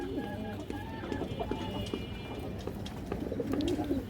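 Pigeons coo softly and close, several overlapping low calls with faint clucking under a steady, busy background.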